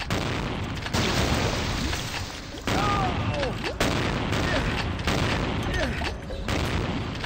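Enemy gunshots in Vampire: The Masquerade - Bloodlines come as repeated heavy booming blasts at close range, each followed by a long rumbling tail, with game sound filling the background and a voice speaking briefly.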